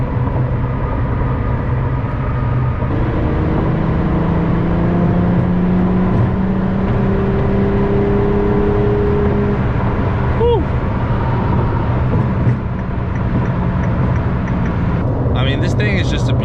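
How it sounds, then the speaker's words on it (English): LaFerrari sports car cruising on a street at about 75 mph, a steady engine and road drone running throughout with someone talking over it most of the time. "There's no other feeling than driving a LaFerrari."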